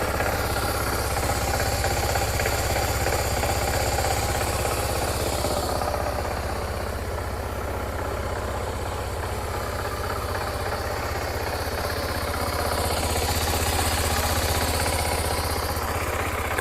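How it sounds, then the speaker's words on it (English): A BMW F650GS single-cylinder motorcycle engine idles steadily just after starting, a continuous close, loud, rough mechanical chatter with a low throbbing pulse and no talk over it. "The engines always sound like a bag of nails"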